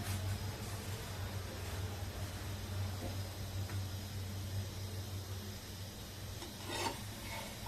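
Puran poli fries with oil on a pan, giving a steady, quiet sizzle with a faint low hum beneath and no voices.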